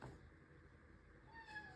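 A domestic cat named Shy gives a single short meow in a home, near and moderately loud, set over low room noise; no one is talking while it sounds.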